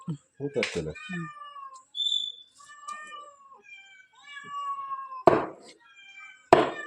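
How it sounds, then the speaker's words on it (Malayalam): Domestic cat meowing several times at close range, loud cries with harmonic tones, with people talking around it. "ആ അവൻ്റെ പൂച്ചയാണ് നിങ്ങളുടെ പൂച്ചയാണത്"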